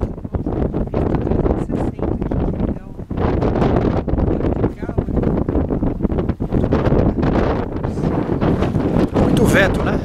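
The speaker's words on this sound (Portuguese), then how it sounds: "Muito vento, né?" Strong wind buffeting the microphone outdoors near the Serra da Canastra national park, loud rumbling gusts and crackling rustle throughout, with a person speaking faintly beneath it.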